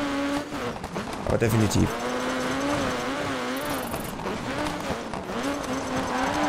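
A rally car in the video game Dirt 3 drifts on dirt, its engine whining with wavering pitch over gravelly tire scrub, a brief clattering burst early on, while someone speaks over it.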